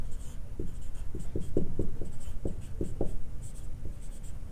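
A pen scratches across paper in short, rhythmic strokes, close and steady, writing out a maths problem, with a low background hum underneath and no speech.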